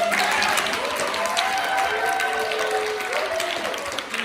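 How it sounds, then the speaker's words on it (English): Audience applause at a BA recital, greeting the performer's duo partner, Angie Nguyen: an even wash of clapping from a small hall, with a few faint tonal sounds drifting through it. "Please give a round of applause for"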